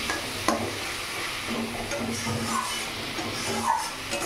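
Spice paste loosened with a little water is stirred and cooked down in a pan for a Bengali bhetki fish curry, giving a steady close sizzle with scraping stir strokes throughout.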